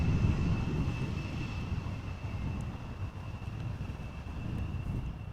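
Steady wind buffeting a microphone outdoors at Amsterdam Schiphol Airport, a continuous low rumble with a faint distant aircraft drone and a thin high tone running throughout.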